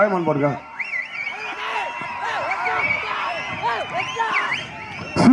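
Spectators at a jallikattu bull-taming event cheer the tamers with shrill rising and falling whistles over a noisy crowd roar, with voices shouting through the din.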